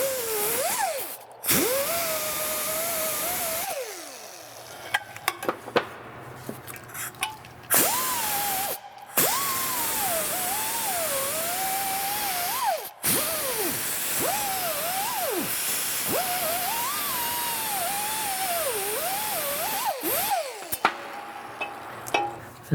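A power tool spins a nylon finger disc against a corroded wheel knuckle during a wheel bearing rebuild, whining and wavering in pitch as it bites. Several bursts with brief stops between them, close and loud.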